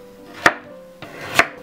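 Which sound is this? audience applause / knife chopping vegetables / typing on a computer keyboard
knife chopping vegetables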